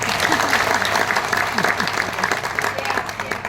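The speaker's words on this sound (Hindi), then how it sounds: "एक बार तालियों के बीच।" Sustained crowd applause at a business seminar in Ahmedabad, Gujarat, steady and dense, with a few voices faintly audible underneath.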